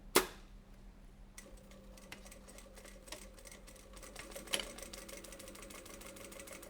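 Sewing machine stitching sterilization wrap for a homemade mask, a faint rapid mechanical patter running steadily with a few sharper clicks, quiet and close.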